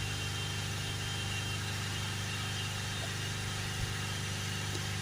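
A Ford Transit van with power loss and a full DPF warning is held at a raised engine speed of about 3000 RPM, giving a steady, even drone that runs unbroken and without pauses.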